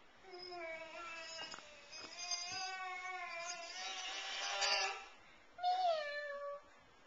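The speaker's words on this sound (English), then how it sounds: "Who is this? It's a kitty." A cat meows in long, drawn-out cries, several in a row with a short pause before a final louder meow, fairly close and alone.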